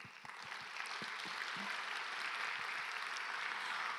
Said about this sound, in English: why don't we give a big applause to ourselves?